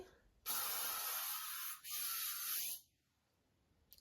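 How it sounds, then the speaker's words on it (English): Chi Helmet Head hairspray sprayed from an aerosol can during a Regency hairstyle, two close hissing bursts of about a second each with a short break between, in a quiet room. "So, hairspray."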